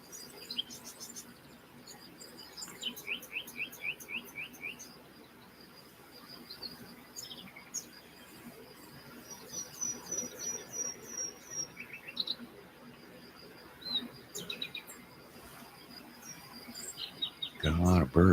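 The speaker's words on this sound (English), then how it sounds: "Got a lot of birds flying around out there." Birds chirp and trill outdoors in short repeated bursts, some close and some farther off, over a soft background hum of insects. A brief louder knock comes at the very end.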